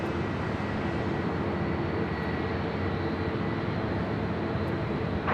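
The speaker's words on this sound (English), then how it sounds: "the Dreamliner now pushing back to the north side gates of Tom Bradley" A Boeing 787 Dreamliner at LAX makes a steady, loud, broadband jet engine roar that holds constant throughout, with no voices.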